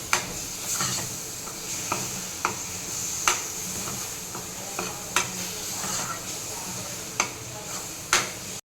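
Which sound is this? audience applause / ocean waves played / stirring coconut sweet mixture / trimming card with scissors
stirring coconut sweet mixture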